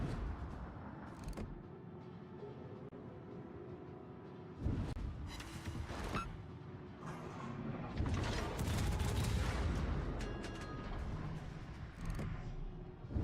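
Naval guns firing in World of Warships from a moving Tier 9-era battle, heavy booming salvos and blasts over a continuous rumbling game soundscape, loud and dense with no pauses.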